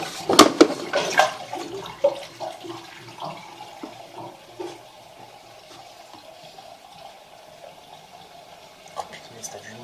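Water gushing and splashing into a sink after it was unclogged, loud at first and then settling into a fainter trickle with scattered clinks, as voices talk over it.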